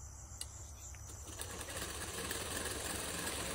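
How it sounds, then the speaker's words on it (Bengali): A sewing machine stitches a large woven sack into a bag, running as a quiet, fast, steady mechanical whirr with a few faint clicks near the start. "এখন সেলাই করে নিব সাইজ মতন।"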